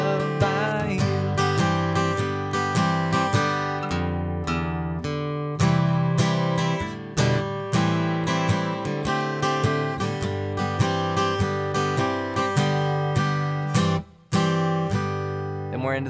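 An acoustic guitar plays the intro to a song, strummed chords with a steady, bright rhythm, close and loud, continuing alone with no talking.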